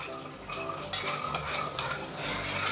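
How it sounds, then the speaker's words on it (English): A spoon stirs sugar into braised pork belly in a pot, giving soft, close scraping and clinking against the pot over a faint low simmer, without talk. "Nicely mix everything up."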